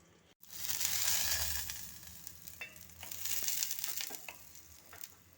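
Food frying in a pan gives a loud, steady sizzle, broken by scraping and clattering as it is flipped and stirred, with no talking.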